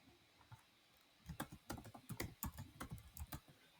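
Keys clatter on a computer keyboard while text is entered in a design program, with soft, quiet clicks in irregular quick bursts and no voices.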